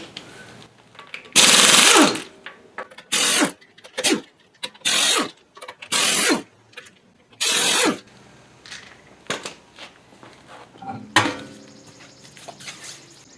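On a 2013-2019 Ford Escape, an impact wrench zips off the wheel lug nuts in a series of loud, sharp rattling bursts, each lasting about a second, separated by short pauses and clinks.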